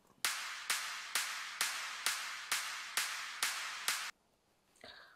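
Eight evenly spaced drop-clap hits from a Kashmir sample pack, each a sharp, loud, close snap with a short washy tail, then a brief quiet stretch.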